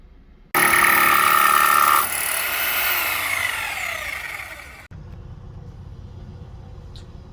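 A power saw cuts plywood for a toilet subfloor, starting abruptly with a loud whining cut that tapers over about four seconds before cutting off, leaving quieter background noise.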